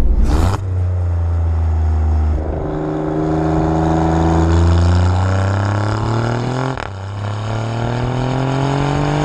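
An Alfa Romeo Giulia QV engine roars loudly from close up while accelerating through several gears, the pitch climbing steadily and then dropping sharply at each shift, without any talking over it.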